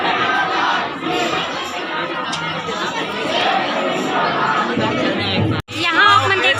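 A big, dense crowd at the Krishna Janmashtami festival in Kawardha, Chhattisgarh produces loud overlapping chatter with occasional shouts. It cuts out for an instant near the end, then resumes at full strength.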